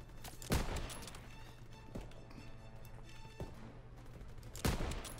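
Gunfire rattles in Call of Duty WWII: sharp shots and short bursts at irregular intervals over a steady low battlefield hum, with a couple of louder near cracks.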